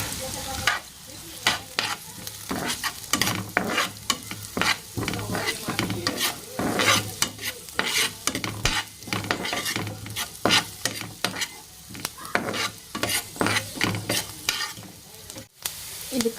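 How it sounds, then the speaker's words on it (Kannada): Capsicum and thinly cut carrot frying in a pan while being stirred: continuous sizzling broken by repeated scraping strokes of a spoon against the pan, close and fairly loud. "ಕ್ಯಾಪ್ಸಿಕಮ್ ಹಾಕಿ ಫ್ರೈ ಮಾಡ್ಕೊಳ್ಳೋಣ."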